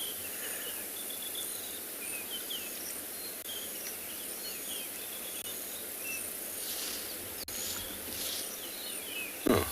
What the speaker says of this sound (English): Let's listen to the birds chirping.